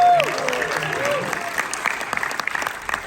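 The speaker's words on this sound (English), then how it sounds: "So give them all a big round of applause." Cinema audience at a Sydney premiere applauding the cast and crew, loud, dense applause filling the room, with a brief voice and a ringing tone at the start before the clapping carries on alone.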